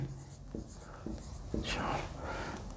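Amounts are written out while an accounting question on share capital is worked through: soft scratchy pen strokes in a few short bursts, quiet and close, with a faint voice murmuring underneath.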